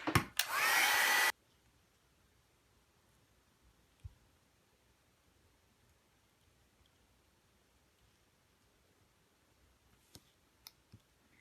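A hair dryer blasts briefly to dry paint on a fall-themed mixed media art piece. The loud, close whoosh lasts about a second and then cuts off, leaving near silence broken by a few faint clicks.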